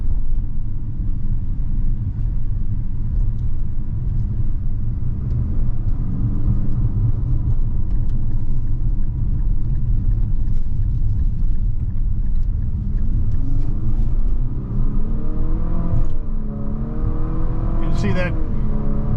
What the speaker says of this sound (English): See that they're trying with this CVT to get these gears to fire off